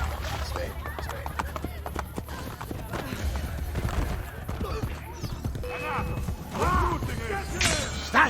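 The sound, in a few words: horse galloping in video game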